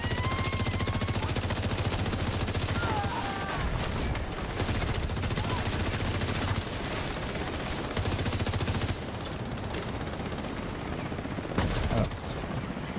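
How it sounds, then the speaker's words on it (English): Video game gunfire rattles almost nonstop for the full length, with dense bursts of automatic fire and overlapping shots and only brief lulls, all loud and close, while a voice speaks now and then underneath. "Stop shooting my friends."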